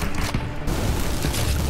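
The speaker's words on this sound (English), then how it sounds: "Oh my god, I'm getting shot." Rapid gunfire in a video game crackles loudly and continuously across a short burst, dense and close with no pauses.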